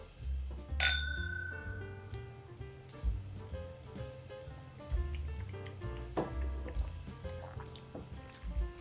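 Glasses of Knob Creek 21 Year bourbon meet in a toast with one bright, ringing clink early on, followed by softer clinks and handling knocks at a low level.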